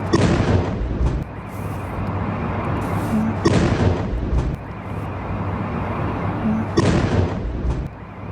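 Heavy blasts from a Russian ballistic missile attack on Kyiv, three loud booming explosions at roughly three-second intervals, each followed by a rumbling roar that stays dense and loud between hits.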